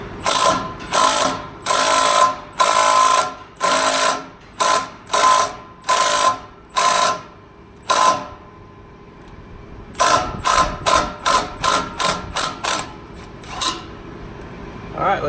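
A Milwaukee power ratchet with a 19 mm socket tightens an exhaust expander in a string of loud whirring bursts, first long and then shorter and quicker, close to the listener.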